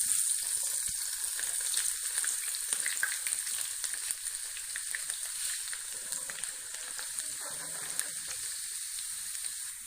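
Garlic fries in hot desi ghee for a dhaba-style sarson ka saag, giving a bright, steady crackling sizzle close to the pan that runs for the whole stretch with no voices.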